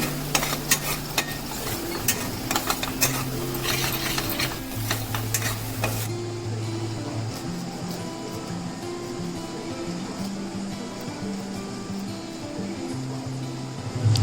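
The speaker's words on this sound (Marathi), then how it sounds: "आपल्याला आता हळूहळू परतायचं आहे" Spicy masala for Khandeshi mutton curry is slowly sautéed in a pan over low heat, a steady sizzle under scraping stirs that settles into quieter frying midway.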